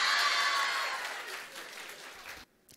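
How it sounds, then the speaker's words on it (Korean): An audience at a youth humanities concert in a high school hall in Yangpyeong gives a short burst of applause. The clapping is dense at first, then thins and fades out within a few seconds. "신기하면 다시 한번 박수를 쳐주시든가."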